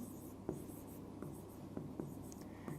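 Pen writing numbers while solving a Class 7 maths data handling exercise: several short, soft scratching strokes in an irregular rhythm, close and quiet, with no talking.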